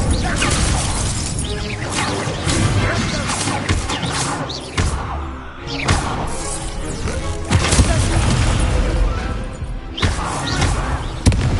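Incendio fire spells in the Hogwarts Legacy video game, cast amid a dense, loud battle: repeated bursts, crashes and thuds layered over steady game noise with scarcely a pause.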